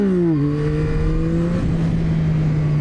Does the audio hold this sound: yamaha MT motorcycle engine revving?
yes